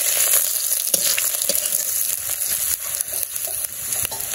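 Cumin and radhuni seeds fry in hot oil in a pan, giving a steady, close hissing sizzle with scattered crackles and pops throughout and no talking.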